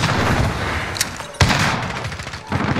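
Gunfire from a 1911 pistol in the video game Modern Warfare: a sharp shot, then a louder crack a moment later, over a constant rumble of battle noise.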